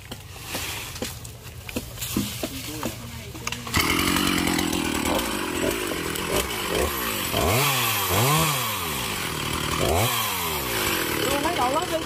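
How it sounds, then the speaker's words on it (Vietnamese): A chainsaw revs up and down, rising and falling in pitch as it cuts through a banana tree, with people talking over it. "Tiếp tục cưa chuối nữa."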